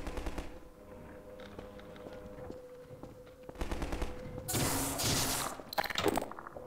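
Loud bursts of gunfire in Half-Life 2: Episode 1, with a shotgun blasting amid rapid automatic shots and impact thuds, dense and near over the game's background sounds.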